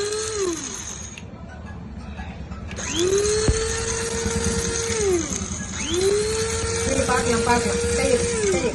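An electric mixer grinder grinds spices into powder for chicken pickle, its loud whine rising, holding and falling in repeated bursts, with voices in the background.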